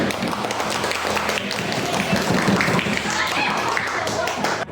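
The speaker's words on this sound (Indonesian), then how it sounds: "Tepuk tangan untuk kelompok kapibara." A group of students in a classroom lesson claps for the capybara team, giving a lively, uneven burst of hand claps and taps mixed with chatter and voices throughout.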